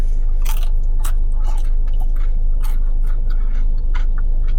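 Crisp crunching bites and chewing of a taiyaki, a fish-shaped pastry filled with sweet mung bean, heard up close as a series of sharp crackles over a steady low background.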